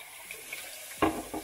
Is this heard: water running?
yes